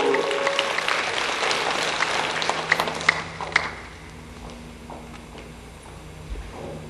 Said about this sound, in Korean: 한번 올라오시는 동안에 환영의 박수